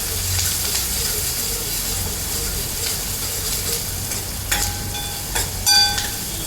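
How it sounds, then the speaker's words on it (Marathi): Onion sautéing in a pan with ground masala, green chilli, turmeric and red chilli powder gives a steady close sizzle, joined near the end by a few sharper clinks and scrapes. "हे आपण चांगलं आता परतून घेणार आहे कांदा."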